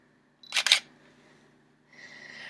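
An SLR camera shutter fires indoors, a sharp double click close to the microphone, followed by a quieter whirring mechanical noise.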